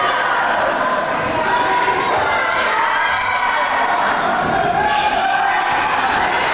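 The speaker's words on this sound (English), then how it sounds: "But listen to the crowd here," A boxing crowd in Wales roars during a close bout between Herbert and Crosbie, a dense, loud wall of cheering and shouting that holds steady for the whole stretch.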